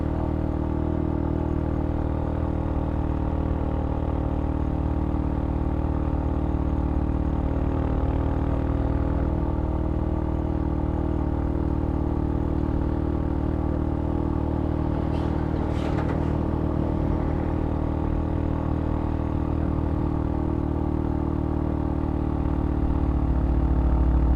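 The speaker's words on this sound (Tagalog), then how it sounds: "biro mo segunda, hirap na hirap ang motor ko" A motorcycle on a long Batangas-to-Leyte ride strains up a very steep climb in second gear, giving a loud, continuous, laboring engine drone that barely changes for over twenty seconds.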